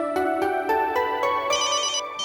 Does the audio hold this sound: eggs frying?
no